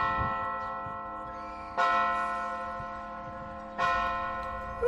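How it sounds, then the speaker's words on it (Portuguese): A clock strikes the hour with deep, resonant bell chimes, three clear strokes about two seconds apart, each ringing out and decaying slowly before the next. "Mas, finalmente, as badaladas soaram nitidamente."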